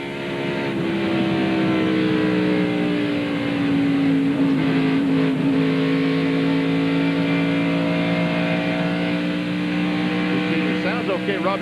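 A NASCAR Winston Cup race car, apparently not running at full power, at Atlanta Motor Speedway, its engine giving a loud sustained drone whose pitch climbs slowly and steadily, close and continuous throughout.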